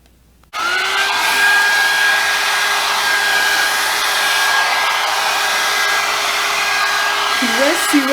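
Revlon hair dryer brush switches on after a short silence and roars steadily while drying hair, close and loud, with a constant whine running through the airflow noise. Faint voice-like sounds appear near the end.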